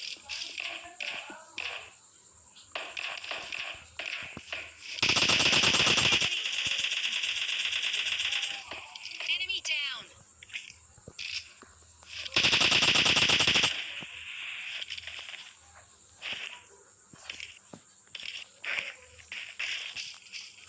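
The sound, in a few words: gunfire in the video game PUBG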